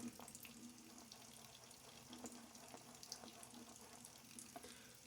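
Water runs steadily from a tap as it is added to a shaving lather bowl, a faint continuous splashing trickle with no speech over it.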